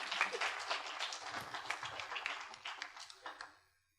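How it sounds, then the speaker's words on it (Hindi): Audience applause at an international Jyotish (astrology) conference session in a hall in Bhopal, a moderate wash of clapping that fades out toward the end. "ताली हो जाए इसके लिए"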